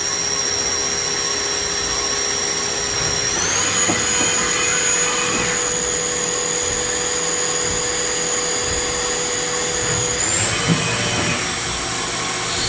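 Vertical machining center spindle on a new 2018 Southwestern Industries Trak LPM spinning at high RPM, a loud steady whine that steps up in pitch twice as the speed rises, running alone without talk.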